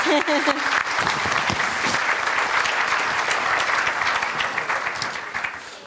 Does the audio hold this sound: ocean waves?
no